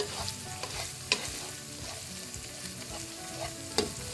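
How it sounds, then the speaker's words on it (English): Store-bought garlic paste sizzles in a pan, a constant close hiss with repeated spoon scrapes and a couple of sharp metallic knocks against the pan, with no voices. "I'm going to give it a few seconds, maybe up to a minute, for that garlic to cook before we start throwing in the rest of the ingredients"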